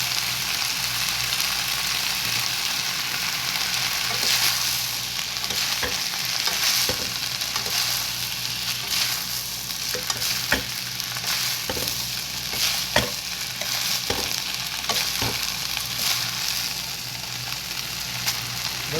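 Seaweed stems stir-fried with sliced onion, plenty of garlic and chopped green onion crackle and sizzle steadily in a hot pan, with frequent sharp scrapes and clacks from the stirring utensil throughout.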